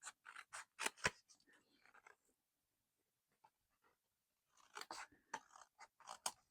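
Scissors snipping around score lines on a paper window template in a craft room, a quick run of crisp cuts, a pause of near silence, then another burst of close, sharp snips.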